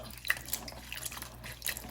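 Leeks are broken apart by hand in a bowl of cold water, giving quiet, close, irregular little splashes and drips with no talking.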